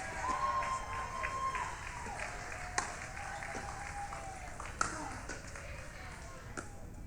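Spectators clap at an outdoor pickleball match after a long rally. The applause is steady and moderate and sits under a commentator talking throughout.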